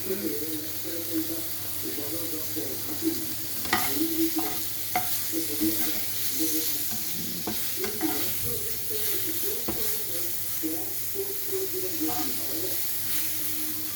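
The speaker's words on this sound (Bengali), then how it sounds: "ঝিঙেগুলো একটু ভাজা হয়ে গেলে" Ridge gourd with a little turmeric fries in a pan, making a steady sizzle and hiss under scraping stir strokes, with faint background voices.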